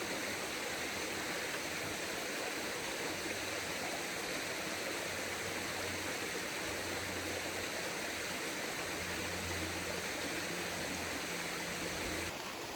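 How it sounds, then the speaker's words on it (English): Waterfall water pours and roars in a steady, dense rush at Bear's Den in New Salem, Massachusetts, loud and continuous throughout with no voices. "Over here is the bigger of the two waterfalls."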